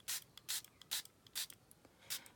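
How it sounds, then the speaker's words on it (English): A Stampin' Spritzer bottle mists paper on a card-making desk, giving about six quick, soft hissing sprays at a brisk, slightly uneven pace, close and quiet with no talking. "Then we're going to take our Stampin' Spritzer and look for the hole."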